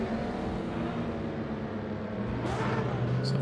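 A car engine in the Assetto Corsa racing game hums as a steady mid-level drone, heard from a following camera, its pitch climbing slightly near the end.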